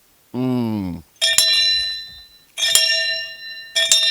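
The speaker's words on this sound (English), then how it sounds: "Let me ring my bell for my sister" A voice calls out briefly, then a hand bell is shaken in three bright, jangling bursts separated by short pauses, loud and close.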